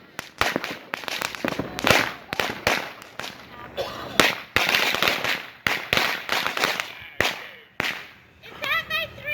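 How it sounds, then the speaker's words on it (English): A brick of firecrackers goes off outdoors in a long, rapid string of loud, sharp bangs that crackle on for about nine seconds, with a few people talking and exclaiming underneath. "No, that was that brick of firecrackers."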